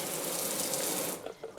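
A Delta touchless pull-down kitchen faucet runs water into a sink in a steady, full hiss, then cuts off and gives a few short splashes and drips near the end.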